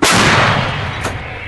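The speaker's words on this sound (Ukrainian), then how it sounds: "Вот центральный постріл." A single thunderous blast from an M109A3GN Paladin self-propelled howitzer firing in the field, a loud, close boom that rolls into a long broadband rumble and fades across the second and a half.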